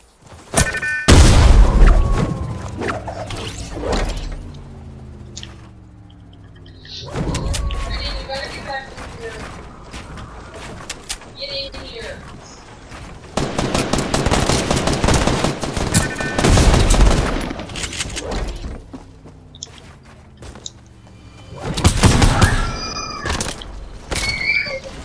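Fortnite video game gunfire: bursts of rapid shots and heavy booms in several loud clusters, with stretches of quieter game sound between and voices talking over parts of it.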